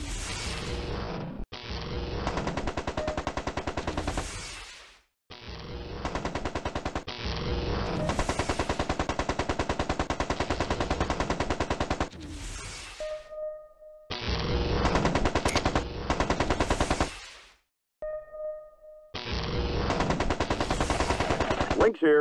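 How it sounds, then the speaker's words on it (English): Gunfire in the MechCommander video game: long, loud bursts of rapid machine-gun fire broken by short pauses, with a few brief electronic tones in the gaps. "Taking enemy fire."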